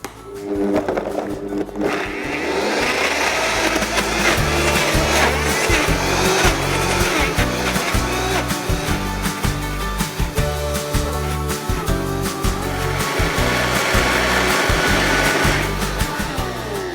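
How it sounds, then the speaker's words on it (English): A Vitamix blender whirs loudly at high speed through peaches and ice cream, motor ramping up then holding a steady, churning roar with rhythmic thumping from the tamper pressing the mix, heard close and alone. "I'm going to start on speed 1, get it up to speed 10, which is high speed, and then I'm going to blend with my tamper for about 30 seconds"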